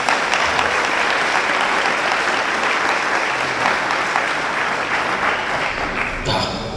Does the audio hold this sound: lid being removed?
no